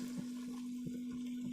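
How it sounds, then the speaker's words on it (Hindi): Half a cup of water is poured into a pan of chicken jalfrezi. It makes a faint, brief watery splash over a steady low hum. "अब इसको अच्छे से गलाने के लिए हम क्या करेंगे, इसमें आधा कप पानी डाल देंगे"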